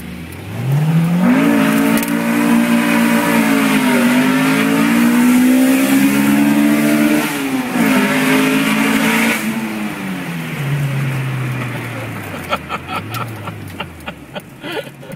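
A Honda Civic EG with a freshly installed B16A engine revs hard through the gears on a road test. Rising and falling engine pitch sweeps through several shifts, loud and close, then eases off to a lower drone near the end.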